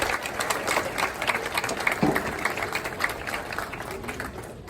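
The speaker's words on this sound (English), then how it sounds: "So let's give these kiddos a round of applause." A county fair crowd claps for young goat show exhibitors, the applause moderate and somewhat distant, with scattered voices and a short shout mixed in.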